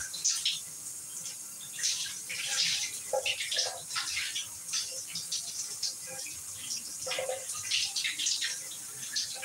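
A shower runs with a steady hiss of spraying water and splashing patter, heard at close range and fairly faint, with no talking over it.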